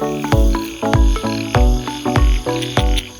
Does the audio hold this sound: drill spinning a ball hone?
no